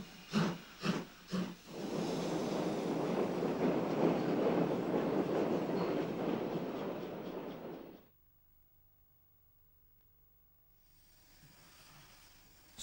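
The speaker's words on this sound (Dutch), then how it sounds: "De 6300 vertrekt naar Maastricht en passeert een typisch Noord-Belgische Seine." A Belgian railway class 6300 locomotive departs toward Maastricht with Nord-Belge coaches, opening with several loud chuffing bursts that merge into a sustained roaring hiss, then cut to near silence.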